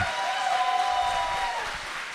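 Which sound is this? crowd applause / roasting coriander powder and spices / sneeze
crowd applause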